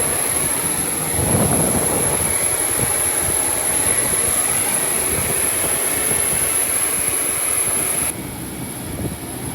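A Boeing 737 MAX 8 jet engine roars steadily and loudly with a high whine on top, close and unbroken, then drops slightly near the end.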